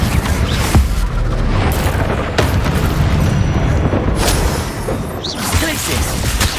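Confringo spell explosions in Hogwarts Legacy gameplay, a dense, loud barrage of booming blasts and whooshes over constant battle noise, with a few sharper bursts standing out.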